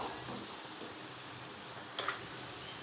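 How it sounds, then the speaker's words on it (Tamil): Onion and tomato sauté in a pan with a soft, faint steady sizzle, broken by a couple of brief scraping clicks from stirring. "தக்காளி பழத்தை சேர்த்துட்டு கலந்து விட்டுப்போம்"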